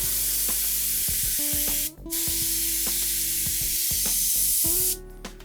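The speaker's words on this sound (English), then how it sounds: "Okay, let's see how this sprays." An Iwata airbrush with a repaired nozzle sprays in steady, loud hissing bursts, pausing briefly around the middle and near the end, with faint tonal whine from the compressor.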